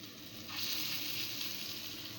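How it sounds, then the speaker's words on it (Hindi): Lentil patties frying in a pan give a steady, fairly quiet sizzle that swells louder after the first half second and holds evenly to the end, with no voices. "ये मैं इनको फ्राई इसलिए कर रही हूँ कि दाल बिल्कुल कच्ची थी"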